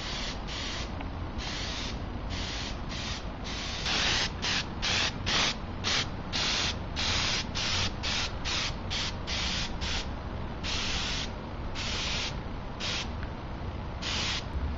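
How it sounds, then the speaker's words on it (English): Compressor spray gun spraying liquid latex onto a foam helmet in repeated bursts, a steady hiss pulsing on and off in short thin-coat passes, close and loud throughout with no talk. "So when I spray it, latex comes out."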